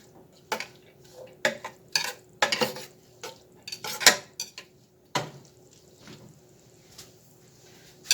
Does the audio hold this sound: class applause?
no